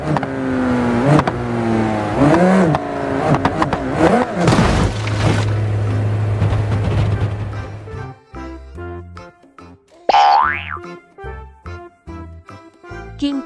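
A toy race car gives off loud electronic engine revving with rising and falling whines, then switches to choppy, jingling sound effects with a sharp upward sweep near the end.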